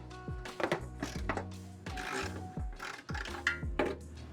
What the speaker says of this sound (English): I'm gonna loosen the carrier bearing, support bearing, bolts.